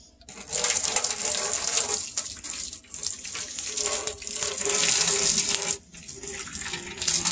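Hot water from a pot of hot dogs gushes steadily into a kitchen sink, a loud continuous splashing rush that briefly cuts out near the end before resuming.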